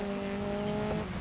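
Race car in the game GRID Legends braking, with a steady engine drone and sustained tonal tire squeal running continuously through a short stretch, fairly loud and alone.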